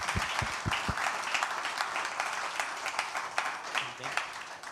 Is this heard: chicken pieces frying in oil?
no